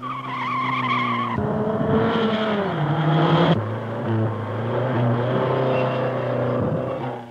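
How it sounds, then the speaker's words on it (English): Racing cars and ordinary family saloons compete on a race track, with a loud continuous engine roar, pitch swoops as cars pass and shift, and screeching tyres throughout. "Ordinary family saloons compete on the track as well as racing cars"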